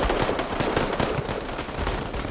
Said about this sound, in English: Yes, our mortar is firing up.